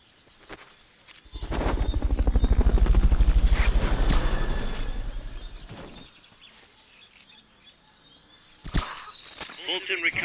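A Fulton recovery helicopter in Metal Gear Solid Peace Walker makes a rhythmic rotor thumping that swells loudly for a few seconds and then fades, followed by scattered game sound effects and voices.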